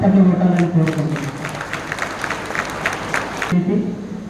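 Audience applause at a Chhatrapati Shivaji statue unveiling ceremony in Daulatabad, a steady crowd clapping for several seconds after a speaker's request, ending abruptly, with some voice bleeding in at the start and end.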